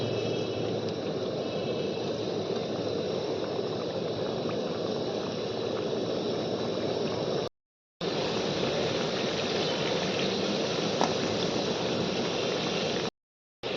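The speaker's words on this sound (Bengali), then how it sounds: "সাদা তেল দিয়ে সিঙ্গড়াগুলো ভাজবো" Chicken samosas deep-fry in gently heated white oil, a dense, steady bubbling hiss that carries on for several seconds, with two short silent gaps.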